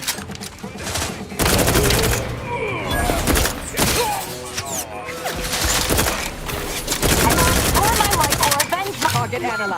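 Heavy automatic gunfire in The Outer Worlds 2, loud and continuous with bursts of shots and crashes almost throughout, a brief lull near the middle.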